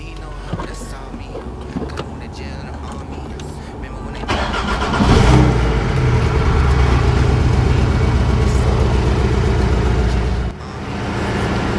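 A Porsche Cayman/Boxster 718 engine cranks and fires after an oil change, settling into a steady, loud idle close by, with quiet voices and small handling noises heard before it starts.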